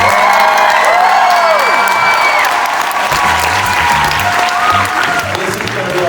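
Loud, sustained audience applause and cheering fill a hall at the opening of Jeff Kinney's live Wrecking Ball show in Houston, with whoops and children's shouts rising over steady clapping throughout.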